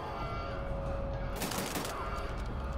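Automatic gunfire from a first-person shooter set in an alternate World War II, Wolfenstein: The New Order, a dense burst of rapid shots in the middle of a steady loud game soundtrack.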